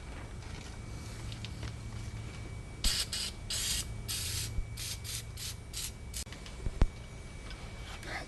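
Penetrant sprayed onto axle nuts on a K5 Blazer's Dana 44 axle: a series of short hissing aerosol bursts in quick succession, close and fairly loud against a quiet background, with faint clicks.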